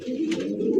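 Black checker Kashmiri racer pigeon cooing in a low, steady, continuous rolling coo, close and fairly loud with no speech.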